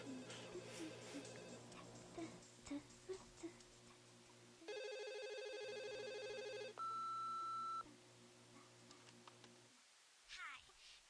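A telephone rings in the video game Conker's Bad Fur Day, with a few seconds of loud, steady electronic ringing and a higher beep breaking through a busy bed of game sounds, then fading back to quieter background noise.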